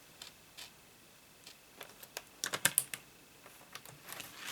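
Paper trimmer blade slicing through card stock for a concertina fold card, a few soft scattered clicks and slides, then a quick cluster of sharp cutting taps near the middle, close and quiet in an otherwise still room.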